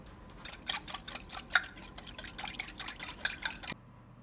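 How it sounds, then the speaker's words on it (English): Matzah dough of water and olive oil being stirred in a bowl, giving a quick run of light wet clicking and scraping strokes that stop abruptly, close and fairly faint. "Then you have to mix that well."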